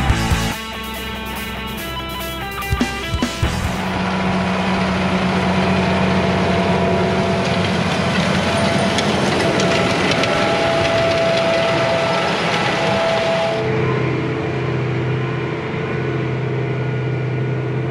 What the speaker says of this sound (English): That is one good-looking tractor and grain cart.